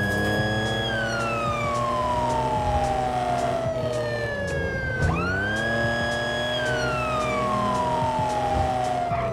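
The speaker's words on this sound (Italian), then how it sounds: "Andiamo, mettiamo le sirene." Police car siren in GTA 5 with the LSPDFR police mod, loud and close, wailing steadily up and down and switching to a faster yelp midway over engine rumble.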